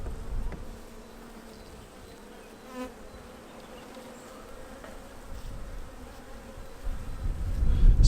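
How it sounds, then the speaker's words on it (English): Honeybees in a nucleus colony hum with a steady, close buzz while the frames are handled; the drone swells a little louder toward the end. "we've got plenty of bees in here as well"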